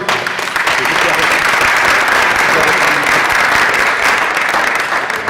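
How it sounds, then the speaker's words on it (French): Audience applause fills the whole stretch, a dense, loud, steady patter of many hands clapping without a break. "Vous pouvez les applaudir"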